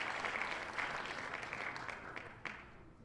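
Short burst of applause from a small podcast audience for two guests, steady dense clapping with a few sharper claps and a light cheer, fading toward the end.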